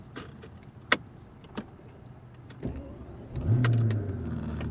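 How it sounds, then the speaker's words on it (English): A Mercedes V12 engine starts up after a few clicks and knocks, settling into a deep, steady idle close by. "the 12-cylinder engine, oh my gosh, it just roars to life"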